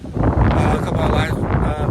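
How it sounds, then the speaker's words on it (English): Steady wind buffets an outdoor microphone near Morrison, Illinois, a loud continuous rumble and roar that fills the whole moment with no pause. "Yeah, it's windy right now, so I'm going to have to go right here and keep it out of the wind as much as possible."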